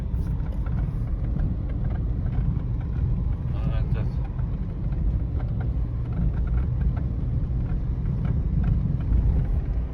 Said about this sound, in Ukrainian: Їду в якоїсь багнюці